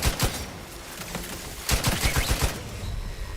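Gunfire in The Outer Worlds 2 video game, with a burst of shots at the start and a denser rapid volley from about halfway through, loud and close with no talk over it.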